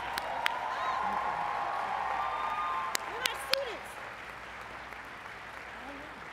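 An audience at a student academic excellence awards ceremony claps steadily for the honored students, a soft, continuous patter of hands with a couple of sharper knocks before it tapers off.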